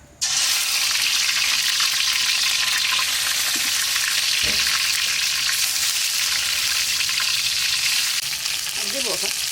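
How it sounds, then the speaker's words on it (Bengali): River fish coated in turmeric and chili powder hits hot oil, and a loud, steady sizzle with crackle starts abruptly and continues close by, with occasional stirring or clinking over it. "গরম হয়ে গেছে এখন মাছটা দিয়ে দেবো"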